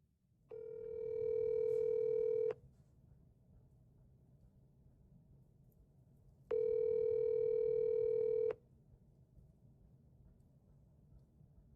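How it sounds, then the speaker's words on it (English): Ringback tone from a phone call placed on a mobile phone, two long steady beeps about two seconds each with a pause between, over a low background hum and no talking. "Who's going to pick up now? It's from my phone."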